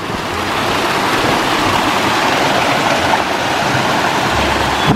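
A small stream runs beside an old renovated mill at Chaos de Thiézac, producing a loud, steady, unbroken rush of water close by with no talking.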